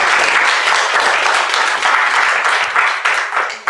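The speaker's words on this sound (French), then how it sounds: "Encore des applaudissements pour ces" A crowd applauding schoolchildren steadily, dense clapping from many hands filling the whole moment without a break.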